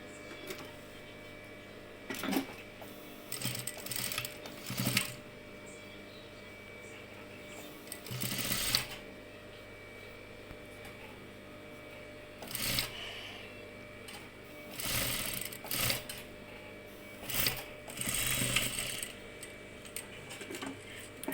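A sewing machine stitches a fabric face mask in short bursts of rapid mechanical whirring and ticking, separated by pauses, close by and fairly quiet, with soft background sounds between runs.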